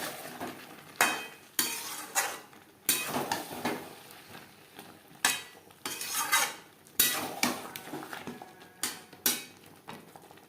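A poppy seed paste curry stirred in a pan over high to medium heat, with repeated spoon scrapes and clinks against the metal above a soft bubbling sizzle, loud, close and rhythmic.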